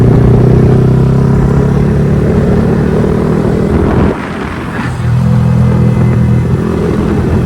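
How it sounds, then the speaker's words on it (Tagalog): A loud motorcycle exhaust rumbles steadily up close on a zigzag mountain highway in Bukidnon, Philippines, briefly dropping in pitch and volume before roaring back to a constant idle. "maingay ang motor. Napakaingay ng tambutso dito."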